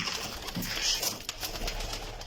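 Low cooing rises from a loft of breeder's pigeons under a steady background hiss, with a faint flutter of wings and no one talking.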